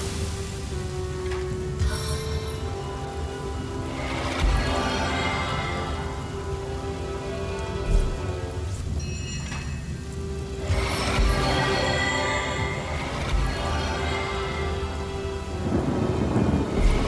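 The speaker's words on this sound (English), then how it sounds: "Rain nurtures our land." Steady rain pours in Divinity: Original Sin, with rolling thunder swelling several times, loud and close, over a constant hiss of falling drops and no voices.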